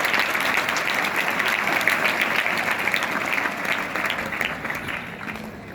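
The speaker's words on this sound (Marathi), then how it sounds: "एकदा जोरदार टाळ्या आपण आपल्या शिक्षकांसाठी." A school audience applauds its teachers at a ceremony, with sustained, dense clapping from a large crowd that holds steady for several seconds before tapering slightly.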